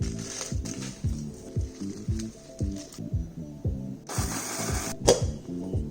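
A small electric grinder crushing chili-based ingredients for homemade vegetarian kimchi, churning with a rhythmic rattling, thumping whirr that swells louder partway through, close and steady with no talk.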